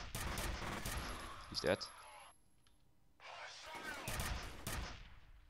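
Gunfire in the video game F.E.A.R., dense rapid bursts of shots with a sharp loud crack partway, breaking off into a quieter gap before another burst of firing, with someone speaking briefly over it.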